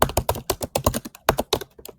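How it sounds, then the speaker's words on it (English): Rapid clattering keystrokes on a computer keyboard, close and steady with an irregular typing cadence and brief pauses, with no voices over it. "That sounds like typing, but it sounds too much like typing."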